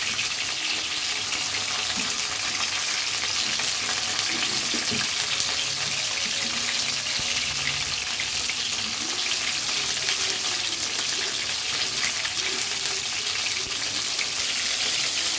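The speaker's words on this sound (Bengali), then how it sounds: "এটাকে হচ্ছে প্রথমে ভেজে নিব চিকেনটা" Chicken frying in a pan for a tomato chicken dish, a loud, continuous hiss of oil that stays even and close throughout, with no talking.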